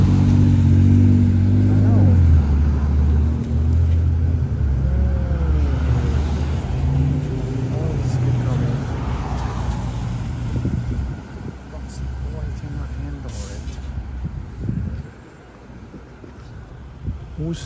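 A car passes along a flooded Brooklyn street in heavy rain, its engine rising and fading against steady rain hiss, with people talking nearby throughout.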